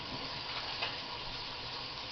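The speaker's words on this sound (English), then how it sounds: "the meat's cooking" Meat cooking for a hunter's stew gives a steady, even sizzle and hiss that stays at a constant, moderate level throughout, with no voices over it.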